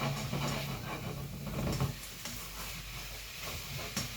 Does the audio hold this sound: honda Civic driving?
no